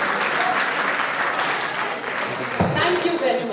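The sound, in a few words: audience applause for live band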